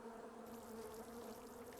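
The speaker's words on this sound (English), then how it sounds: "Just because the bees are kind of annoying." Steady swarm of bees droning in the Island Beekeeper video game, a continuous close buzz holding level for the whole stretch with no talk over it.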